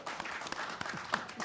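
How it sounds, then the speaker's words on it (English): Audience applause at a sports panel on the big football game, a dense steady patter of many hands clapping close by for about a second and a half. "want you to applaud for Hank Gola, please."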